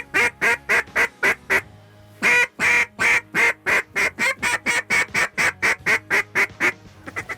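Duck call blown to imitate mallard quacks for hunting migrating ducks, a long rapid series of loud, evenly spaced nasal quacks close to the microphone, with a brief pause before the sequence resumes.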